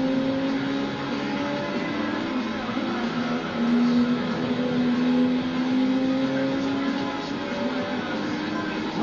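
A turbo-kitted Nissan Skyline with 245 brake horsepower races in Gran Turismo 3, its engine droning steadily with rising and falling pitch as it is driven and cornered, loud throughout.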